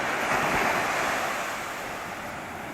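Sea waves roar steadily in a loud, continuous wash of surf, mixed with wind buffeting the microphone.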